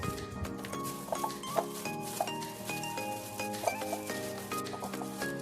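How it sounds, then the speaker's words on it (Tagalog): Raw potato slices are stirred with salt and flour in a bowl, a soft, steady rubbing and pattering close by with light clinks, fairly quiet and with no talking. "Haluin lang ito ng mabuti."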